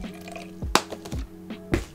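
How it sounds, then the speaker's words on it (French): Water is poured into a small bottle, making a few gurgling splashes and drips that come in short irregular bursts. "je verse mon eau dans le flacon"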